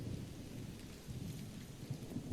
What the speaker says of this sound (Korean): 천둥과 함께 요란하게 내리기 시작하는 비.